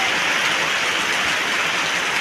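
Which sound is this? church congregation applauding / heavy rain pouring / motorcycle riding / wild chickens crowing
heavy rain pouring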